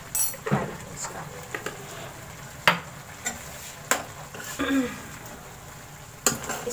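Chicken seasoned with black pepper sizzles softly in a pan, with intermittent scrapes and clinks of a spoon stirring it at close range, no talking over it.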